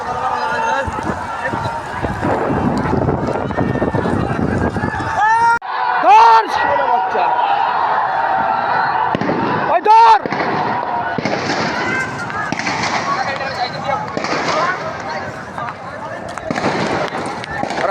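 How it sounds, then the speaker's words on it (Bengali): Repeated gunshots and sharp bangs ring out during a street protest in July, with a few loud cracks over constant crowd noise, running, and people talking and shouting nearby. "ওরা মুহুর্মুহুর গুলি করছে।"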